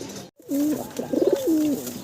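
Pigeons coo at a pigeon farm: a nearby bird gives a run of soft, throaty, rolling coos lasting over a second after a brief silence, loud and clear above faint background noise.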